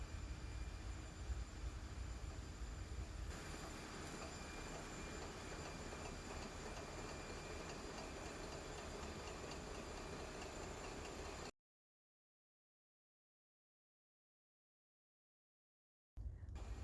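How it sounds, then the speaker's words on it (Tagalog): A marine alternator generator's engine runs steadily up toward its 720 RPM operating speed, a loud continuous machinery drone with tonal whine, then cuts to silence for several seconds before the roar resumes briefly. "to run the generator where the lever is in run position, and keep waiting until the speed RPM will reach with 720 RPM"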